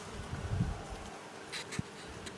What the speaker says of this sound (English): and it's also covered in bees.